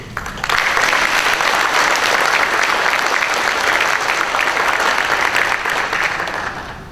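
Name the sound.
applause for police officers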